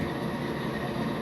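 A classic 944 CW locomotive in the Train Simulator game runs with a steady, dense rumble and hum of engine and rails that stays even and fairly loud throughout, with no voices.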